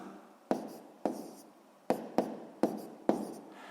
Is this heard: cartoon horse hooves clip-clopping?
no